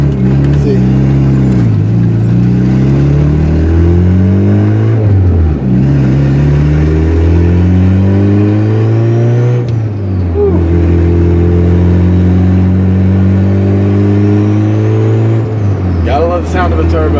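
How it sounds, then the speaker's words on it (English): A 300 hp turbocharged GSR with an Amazon turbo kit, warming up, revs repeatedly: the engine note climbs and falls in several loud, close pulls over a steady idle rumble. "Sound of a turbo."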